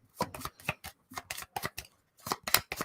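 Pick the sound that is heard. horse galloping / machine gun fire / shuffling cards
shuffling cards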